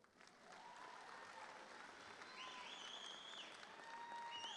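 An audience applauding new correction department recruits at a graduation ceremony, faint, distant sustained clapping with high whistles or tones rising above it.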